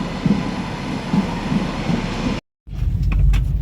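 Continuous low rumble of a train departing Carlisle Station for Edinburgh, moving along the tracks, steady and loud, then a sudden brief gap before the rumbling resumes.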